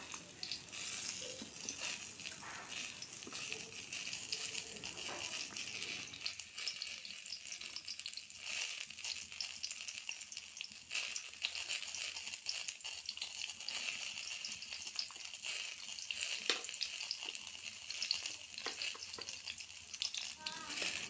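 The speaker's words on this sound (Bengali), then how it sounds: "কড়াই গরম করে সামান্য তেল দিয়ে বিচি ছাড়ানো পটলগুলো অল্প ভেজে নেব" Deseeded pointed gourds fry in a little oil with salt and turmeric in a wok, giving a constant soft sizzle and crackle with occasional stirring scrapes, close and moderately quiet.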